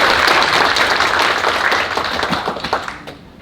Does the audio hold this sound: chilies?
no